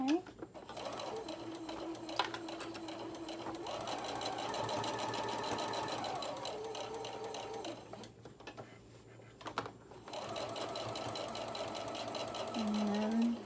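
Sewing machine stitching the seams of fabric gingerbread men: long bursts of fast, steady mechanical whirring that stop and start again, close by, with a person talking over and between the runs.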